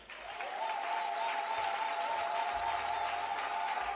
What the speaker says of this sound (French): Nous les acclamons encore.